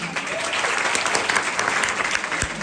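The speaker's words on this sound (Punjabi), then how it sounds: "ਇੱਕ ਵਾਰੀ ਜ਼ੋਰਦਾਰ ਤਾੜੀ ਮਾਰ ਦਈਓ" Schoolchildren at a government school clap loudly together, a dense, vigorous burst of many small hands applauding without pause, close and energetic, with no talking over it.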